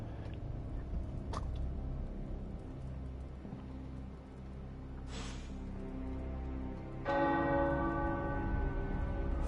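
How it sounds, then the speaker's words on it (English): Tower bells ring in the video game Midnight Suns, a soft, resonant peal with sustained overlapping tones, joined near the end by a louder, brighter strike whose ringing hangs over a low background hum. "The tower bells are ringing."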